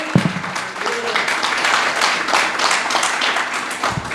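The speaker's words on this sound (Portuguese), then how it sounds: "Mais uma salva de palmas ao nosso Senhor Jesus" Church congregation applauding together at a Brazilian worship service in São José dos Campos, a steady wash of clapping from many hands filling the room at moderate loudness, with voices mixed in.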